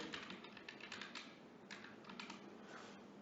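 Steady typing on a computer keyboard, quiet and close, with continuous clattering keystrokes in uneven bursts and no speech.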